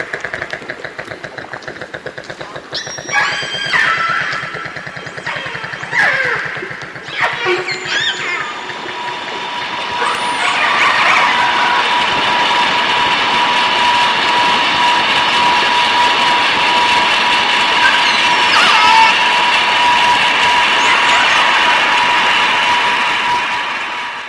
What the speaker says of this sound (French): Donc là, c'est le bruit des orques